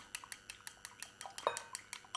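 A cracked egg being beaten in a bowl for chicken chow mein, about a dozen quick, evenly spaced clinks of utensil on bowl, close and faint with no talk.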